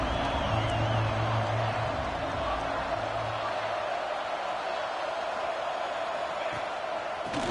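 Football stadium crowd on a third down, a broad steady roar of cheering voices filling the space, dense and continuous throughout with a low droning layer underneath in the first few seconds.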